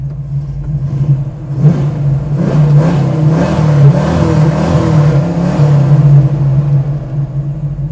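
A 1968 Pontiac GTO muscle car's V8 idles with a deep, loud rumble, then is revved repeatedly, rising in bursts over the lumpy idle, heard up close.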